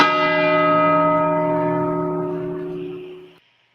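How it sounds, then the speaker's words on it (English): A gong is struck once, loud and resonant, with a sustained metallic ring of layered overtones that decays gradually over about three seconds before cutting off. "What the fuck was up with the gong?"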